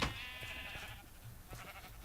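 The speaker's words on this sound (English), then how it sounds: "this is just when I transported the sheep here, so they wouldn't fall off." Sheep in the video game Minecraft bleat once in a drawn-out, wavering call, soft and a little distant over steady game background noise.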